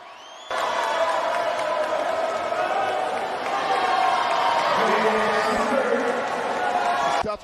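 Excited crowd at an athletics finals race, a steady loud roar of cheering and shouts that starts abruptly and holds, with a commentator-like voice briefly audible beneath it.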